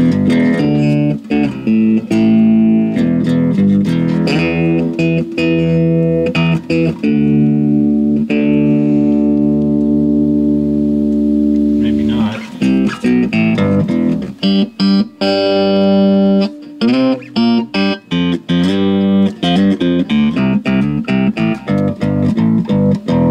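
A freshly tuned LTD 8-string bass guitar rings out loud and close, with plucked notes and sustained chords in an uneven rhythm, some brief gaps, and no talking.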